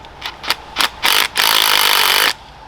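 A power tool gun whirs on a BMW car part in loud bursts, three short pulses followed by a longer sustained spin of about a second before it stops.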